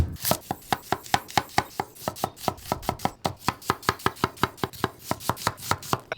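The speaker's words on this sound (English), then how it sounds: "Let's chop up an onion and let's start our long hots." An onion being chopped with a knife on a cutting board in a kitchen while making Philly cheesesteaks; steady, rapid knife strikes, around thirty crisp chops in a quick, even rhythm, close and clear with no talking.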